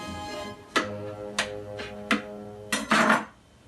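A knife cuts into a lemon yogurt cake on a kitchen surface, giving several sharp knocks and clinks spaced through the clip, ending in a louder scraping burst before it goes quiet.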